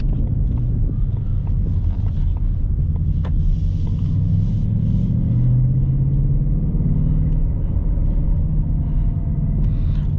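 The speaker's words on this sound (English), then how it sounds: "I'm just coming in here at the V8, which just sounds awesome." A 2021 Ford Mustang Mach 1 with a V8 and six-speed manual drones steadily from inside the cabin while driving, a loud, continuous low rumble with some wind noise and no talking.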